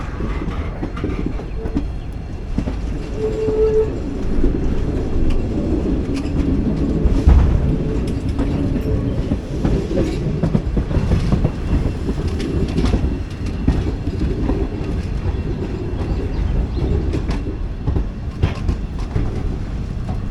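Onboard the diesel-hauled Madurai-Guruvayur Express, a steady loud rumble of running wheels and engine with rhythmic clatter and occasional squeals, continuous throughout.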